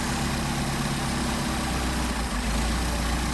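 An engine fed by Solex 44PHH carburetors runs at a steady idle during carburetor tuning, a constant low, throbbing rumble with an even pulse and no talking.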